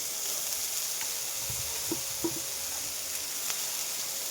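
A pan of curry sizzles steadily while being tempered, a continuous close hiss with a few soft stirring knocks and no talking.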